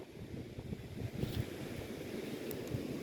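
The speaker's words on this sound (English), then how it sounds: "It's a bit windy out tonight." Steady night wind gusting and rumbling across an open microphone during metal-detecting, a low continuous roar with a washing, surf-like texture and no voices.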